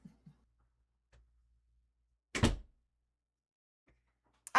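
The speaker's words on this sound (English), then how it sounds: "Ah, I hear a door." A single dull door thud sounds once in an otherwise near-silent room, with a few faint clicks before and after.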